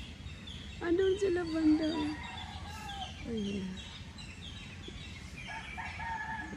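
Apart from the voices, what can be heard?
birds and roosters calling back and forth near a stream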